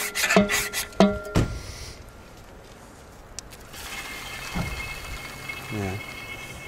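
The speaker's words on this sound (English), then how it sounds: "So I can clamp this off and give it a couple more pumps." An oil extractor's hand pump, with its hose clamped off, is worked with a few squeaky strokes, giving sharp knocks at the start and then a hissy, bubbly draw of air with a short squeak near the end.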